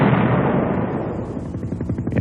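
A single loud blast of conventional artillery fire rolls out and decays over about two seconds, with a rumbling tail that breaks into crackling echoes.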